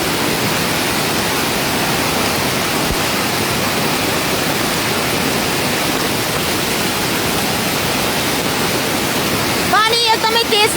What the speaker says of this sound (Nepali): पानी एकदमै तेजमा बगिरहेको छ है